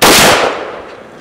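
A single sharp gunshot at shooting practice cracks close and loud, then its echo decays over about a second.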